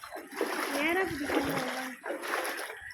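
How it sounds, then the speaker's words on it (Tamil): Feet slosh and splash through shallow water in a steady stride, close by, while a person talks over the wading. "இந்த தண்ணிக்குள்ளே நடக்கணும்ல."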